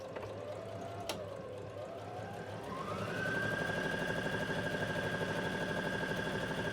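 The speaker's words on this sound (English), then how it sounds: "So I'm going to go and sew this." A sewing machine stitches the side seams of a fabric kimono wrap top. The motor hum rises in pitch as it gets going, then holds at a steady, fast rhythmic whir, fairly quiet and close.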